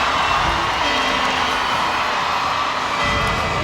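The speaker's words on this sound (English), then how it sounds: "There's the Optus Cup going up to the crowd here, and listen to the roar." A stadium crowd roars as the Optus Cup is raised at the 1997 Newcastle Knights grand final celebrations, a loud, continuous wall of cheering and whooping that swells again near the end.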